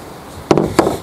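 Geared pruning shears cut through hedge branches in two crisp, separate snaps about a third of a second apart, each with a brief ringing tail, close and fairly loud against a quiet background.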